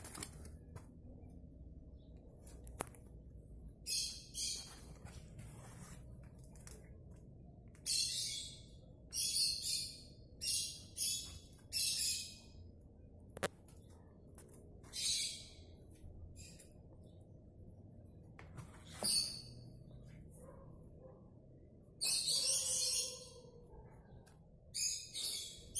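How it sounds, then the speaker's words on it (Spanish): Wild cockatiels call in open country, sharp high chirps and warbled whistles coming in short bursts and clusters, fairly close and clear over a low background hum with no talking. "unas aves por ahí llamadas ninfas la pasan felizmente en esta área"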